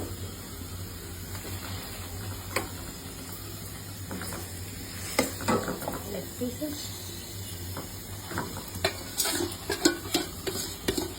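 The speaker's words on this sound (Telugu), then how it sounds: "మొత్తం మ్యారినేట్ చేసిన చికెన్ అంతా ఫ్రైడ్ ఆనియన్స్ లో వేసేసుకోవాలి." Marinated chicken hisses and sizzles as it goes into fried golden-brown onions with green chillies, with an ongoing fry punctuated by stirring scrapes and clatters that grow busier toward the end, near and fairly loud.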